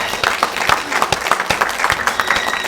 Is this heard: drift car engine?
no